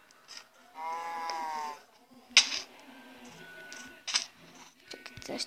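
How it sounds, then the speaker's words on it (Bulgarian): Sheep bleating in the mobile game Minecraft PE: one drawn-out, wavering bleat near the start, then sharper clicks and game noises, with soft talk faintly in the background. "И овцете. Още ли не сте се угоили?"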